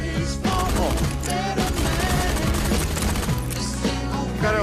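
Rapid revolver gunfire in the Pistol Whip VR game's Western Paradise level, loud bursts of shots crowding over a steady music track with no pauses.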